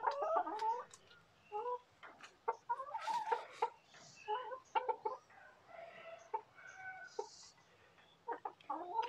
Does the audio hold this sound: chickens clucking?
yes